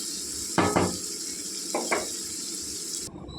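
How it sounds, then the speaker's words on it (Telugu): Raw bitter gourd (kakarakaya) pieces cooking in oil in a pan make a steady hiss, with two brief bursts of louder stirring scrapes before the sizzle cuts off. "అలాగే నూనెలో మగ్గితే బాగుంటాయండి పులుసులోకి."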